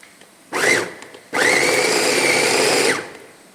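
An electric chopper grinds masala filling for stuffed bitter gourd: a short whirring burst, a brief pause, then a longer, louder steady motor whine that cuts off abruptly, up close.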